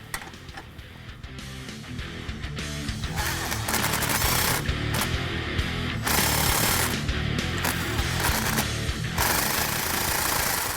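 An impact wrench rattles in loud, rapid hammering bursts while tightening exhaust clamps on a 2007 Jeep Wrangler JK with an aFe cat-back dual-exit system, with short breaks between runs.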